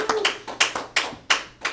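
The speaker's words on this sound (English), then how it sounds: "and another big round of applause for Davin Infinity" Applause from a TV show audience after a presentation, heard as a few spaced, sharp clap bursts, each decaying quickly, fairly close and without talk.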